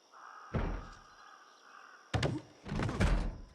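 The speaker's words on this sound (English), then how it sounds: "Oh, I hear somebody banging." A zombie bangs on a wooden door in the Project Zomboid video game, with one heavy thump followed by a burst of several rapid, loud knocks and rattles.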